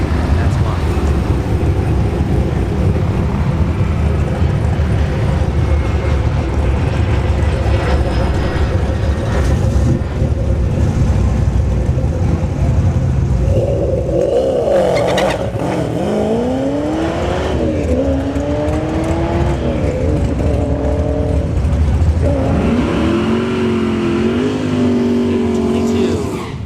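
A ZL1 Camaro with a front-mount intercooler roars down a drag strip, its loud engine note rising through several gear changes as it pulls away under a constant rumble of crowd and track noise.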